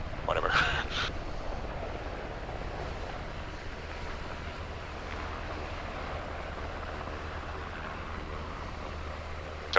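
Helicopter in the Arma 3 video game, a steady low rotor and engine drone running throughout, with a louder burst at the start, while people talk over radio-style chatter.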